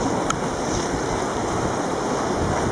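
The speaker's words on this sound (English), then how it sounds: "mountain river." A mountain river in Sri Lanka rushes steadily, a dense, continuous wash of flowing water close by with no voices over it.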